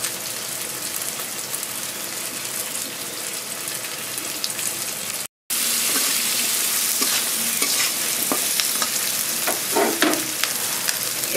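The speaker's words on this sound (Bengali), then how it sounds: "কটা কাঁচা লঙ্কা আমি চিড়ে চিড়ে দিয়ে দিচ্ছি।" Slit green chillies sizzle steadily in hot oil in a pan, a constant close hiss broken by a brief silence, then scraping stirring strokes over the continuing fry.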